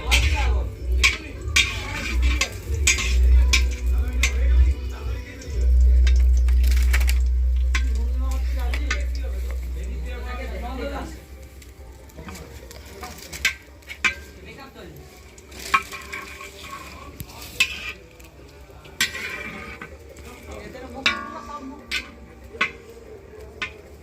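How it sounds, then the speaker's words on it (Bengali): Dried red chillies and bay leaf sizzling in hot oil for tempering a festive Bengali dish, continuous crackling hiss with sharp spatters and utensil clicks, a low rumble early on fading away. "মশলাটা কষে নিচ্ছি, তার জন্য ফোড়ন দিয়ে দিচ্ছি শুকনো লঙ্কা,"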